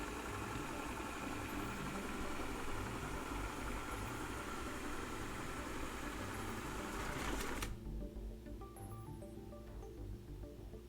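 A steady mechanical whirring hum of a MOOSOO MT-501 robot vacuum driving back to its charging base, which cuts to a quieter idle after several seconds.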